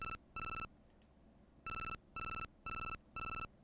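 A cheerful electronic ringtone from the Game Boy game Mobile Monsters Telefang chirps in six quick bursts with short gaps and a longer pause in the middle, clear and alone with no talking.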